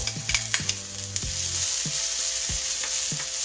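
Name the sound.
salmon pan-frying with dill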